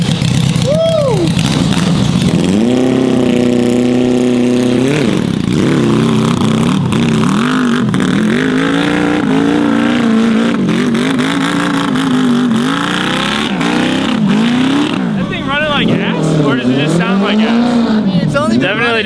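A quad fitted with a swapped-in Yamaha R6 motorcycle engine runs loudly and revs up and down in rising and falling sweeps throughout, close by, with people talking and cheering over it.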